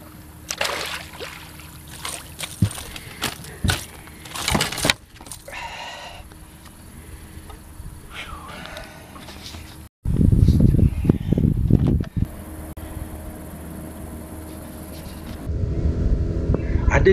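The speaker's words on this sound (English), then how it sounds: "we decided to motor out across the flats to some underwater humps and fish them before the wind got too high" Boat crossing a lake under stormy, windy weather while trolling for fish: gusty wind buffeting and scattered clicks at first, then a loud low motor drone with water rush joining partway, with brief voices early on.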